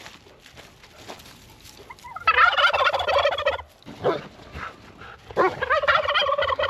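Several male turkeys gobble in bursts, rapid warbling calls overlapping and repeating, loud and close, with brief quieter gaps between, among hens.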